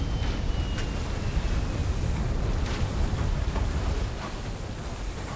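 Water rushes back upward in the puzzle game Trine 2, a continuous loud surging wash of flowing water filling the whole stretch, easing slightly toward the end.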